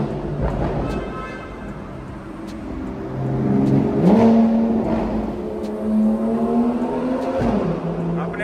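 Car exhaust crackling and engine rumble while driving through a tunnel, with a rising rev and sustained drone echoing in the enclosed space, sharp pops scattered throughout, loud and close.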